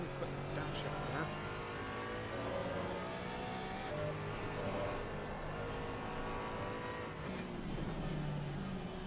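A race car engine drones and revs through a downshift, steady and fairly loud, with faint tire noise, while a voice talks over it throughout.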